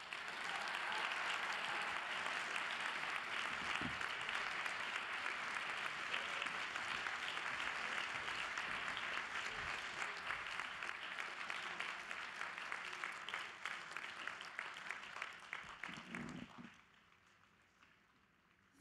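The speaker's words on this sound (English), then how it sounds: "A big cheer for all of you and everyone who supported you." A large audience at a Columbia PhD graduation ceremony for the class of 2023 applauds with dense, sustained clapping and some cheering for about sixteen seconds before it tapers off.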